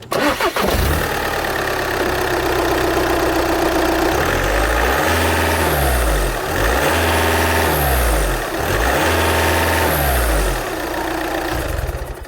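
Stock turbocharged car engine cranking and catching, then settling into a loud, close idle that swells in a few slow rhythmic surges and dips before holding steady.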